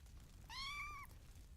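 A baby kitten in the video game Minetest gives a single clear, high, slightly drawn-out meow against a quiet background.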